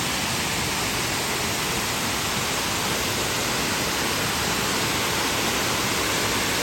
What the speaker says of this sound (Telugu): అసలు ఎంత బ్యూటిఫుల్గా ఉందో ఈ వాటర్ ఫాల్ చూడండి.